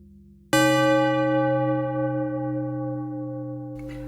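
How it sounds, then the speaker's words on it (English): Synthesized bell tones from the RingsFX iOS app strike once sharply and ring on as a bright sustained chord, slowly fading and detuning in a Doppler-like wobble before a soft noisy tail. "And you get a nice Doppler effect as the bell tones"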